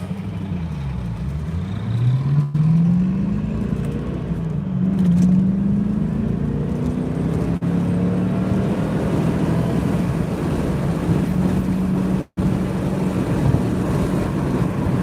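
A car cruises along a road, its engine tone sweeping upward as it accelerates and then holding a steady hum under constant road and cabin noise, heard from inside the car.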